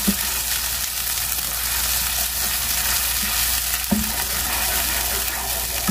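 Salt and ginger paste hit hot oil for a white chickpea curry, giving a steady, loud sizzle and crackle throughout with a couple of brief stirring knocks.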